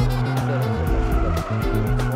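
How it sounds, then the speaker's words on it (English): An old car drifts sideways in a racing video game, its engine revving hard in stepped bursts under throttle with tire squeal, loud and close throughout. "You step on the gas and turn the car sideways."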